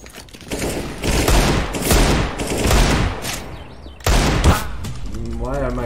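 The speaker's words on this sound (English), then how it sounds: "Why are my shots not randomly hitting their heads? I have the deagle." Rapid Desert Eagle pistol shots crack in a CS:GO match, loud bursts of gunfire in quick succession with a short pause, ending under a voice.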